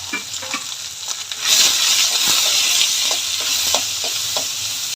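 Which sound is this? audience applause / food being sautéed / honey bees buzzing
food being sautéed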